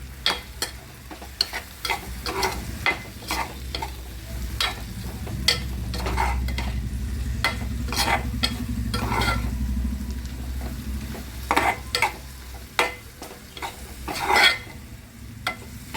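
Bitter gourd sabzi fries in a pan with turmeric, amchur powder and garam masala, a steady low sizzle broken by repeated sharp scraping clicks of a spoon stirring, close and without talk.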